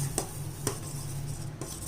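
Metal spoon scraping and tapping in a pan while sugar is stirred into mango custard, three distinct clinks over a steady low background hum.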